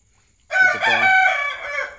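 Hen sitting on eggs to hatch them in a cage lets out a single loud, drawn-out crowing cluck lasting about a second and a half, close up and alone against a quiet background.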